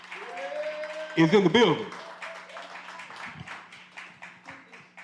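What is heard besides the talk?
audience applause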